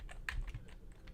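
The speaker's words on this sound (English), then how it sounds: "I'm typing your info in so I don't forget to keep track of the winners." Soft, fairly quiet keystrokes on a computer keyboard as information is entered during a live trivia game, a short irregular burst of light taps.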